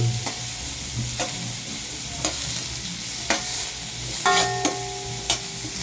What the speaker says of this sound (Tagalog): haluin na natin yung sibuyas hanggat mag-brown